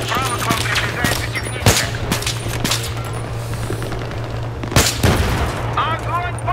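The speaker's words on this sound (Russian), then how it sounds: "Мы под огнем противника! Взрывы близко!" Gunfire bursts and explosions from the Battlefield 3 night-shift mission, with sharp reports scattered over a steady hum and two heavy close blasts, while voices mutter in the background.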